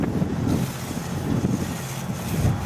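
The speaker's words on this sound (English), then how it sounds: "The wind blowing" Steady wind gusts roar across the open microphone outdoors at the US National Snow Sculpting Competition in freezing single-digit temperatures, a continuous low rumbling buffet with no talking.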